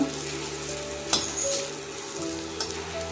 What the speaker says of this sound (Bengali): এখানে আলু উচ্ছে ভাজা বসিয়েছি একদমই অল্প করে